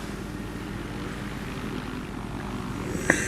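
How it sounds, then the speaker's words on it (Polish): A helicopter flies in the game Battlefield 3, a steady rotor and engine drone lasting throughout, with one short sharp click near the end. "Dobra, lecimy helikopterem."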